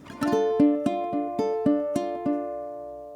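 Ukulele fingerpicking bar 7 of Mauro Giuliani's Allegro: a strummed chord opens, followed by a steady run of clear plucked notes, each ringing and decaying, close and alone without talk.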